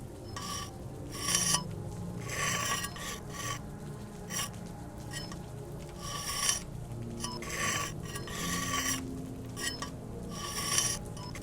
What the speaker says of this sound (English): Come on, Cacho, let's sharpen that knife